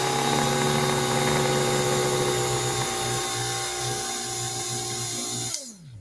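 An electric coffee grinder whirs steadily and loudly at close range, with a high motor whine and faint pulsing, then winds down abruptly near the end.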